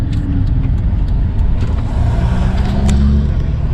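Cars roll past on a road near Gallipoli in Turkey, a steady close engine and tyre roar with a faint rise in revving, heard continuously with no talk.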